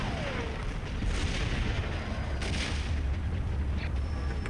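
Booming starship cannon blasts in a space battle video game, fired at an enemy ship's torpedo tubes, a dense, continuous barrage of heavy rumbling impacts with sharper bursts layered over a low roar.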